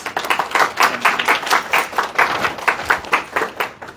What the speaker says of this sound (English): A round of applause for Lauren Aline, please.